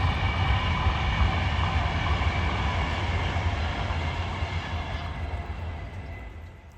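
Train rumbling past beside a canal, a steady close clatter of wagons on the rails that slowly fades as it moves away.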